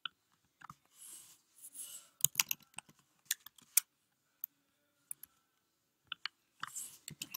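Quick, light keystrokes tap on a computer keyboard in short irregular bursts, close and quiet, with gaps of silence between the clusters of clicks.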